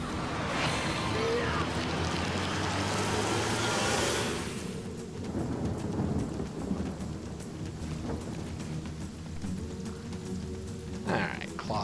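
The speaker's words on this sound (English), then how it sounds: "Let's make it rain inside." Rain pours steadily inside a scene of the video game Divinity: Original Sin, with a loud broadband wash that drops after a few seconds to a softer patter and faint rumbles.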